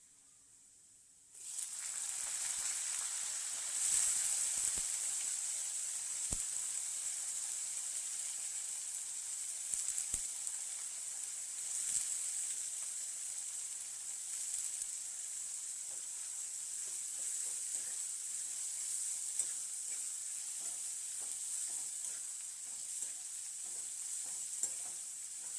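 Kantola (spiny gourd) drops into oil with browned garlic and starts frying, bursting into a sudden bright sizzle that stays steady and hissing for the rest, with occasional soft clicks of stirring.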